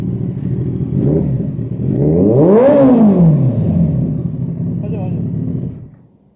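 A Kawasaki Ninja ZX-14R motorcycle idles with a deep, loud exhaust rumble. One sharp rev swells and falls away, then the engine settles back to idle and cuts off at the end.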